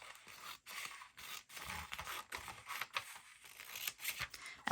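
Scissors cut an image out of a magazine page in a quiet close-up, a faint run of crisp snips and paper scrapes broken by brief pauses.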